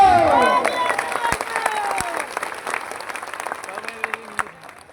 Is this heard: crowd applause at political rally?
yes